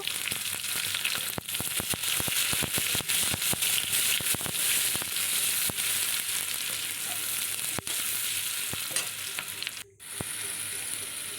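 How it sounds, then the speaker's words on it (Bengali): Chopped onion frying in oil until reddish, a dense, close sizzle with scattered crackles and occasional stirring clicks, briefly dropping out near the end; no speech. "কুচনো পেঁয়াজটা একটু লাল লাল করে ভেজে নেব"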